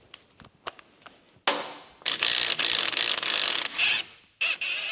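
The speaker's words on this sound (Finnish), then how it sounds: "Kokeillaan pulttipyssyllä," Impact wrench loosening the front hub nut on a Volvo V50, with a few light clicks and knocks before loud rattling hammering bursts that stop and start several times, close up.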